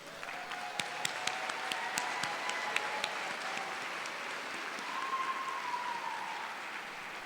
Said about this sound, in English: let's have one more round of applause for the graduates